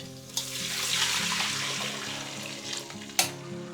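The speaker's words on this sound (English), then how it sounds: "we can actually add in the chicken stock" Chicken stock pours into a hot pan for Teochew braised duck, a loud hissing sizzle with bubbling liquid and a sharp clank of utensils near the start and end.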